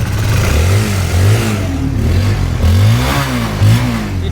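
A 2013 Kawasaki Ninja motorcycle engine with about 49,000 km runs steadily close by and is revved several times, its pitch rising and falling in repeated smooth surges with no talking over it.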